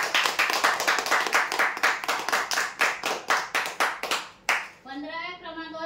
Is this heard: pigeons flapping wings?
no